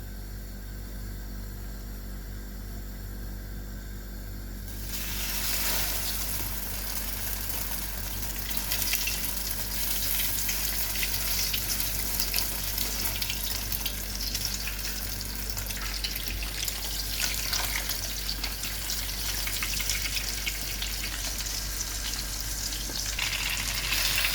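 Flour-and-egg-coated zucchini slices fry in a hot pan with a steady, close sizzle that starts softer and swells into a dense, continuous hiss after a few seconds, with no talking.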